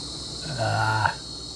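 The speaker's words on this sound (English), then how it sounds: "They're being serenaded by the cicadas." Cicadas buzzing in Kruger National Park, a brief rising drone that swells for about half a second and then cuts off, heard alone outdoors with no talk.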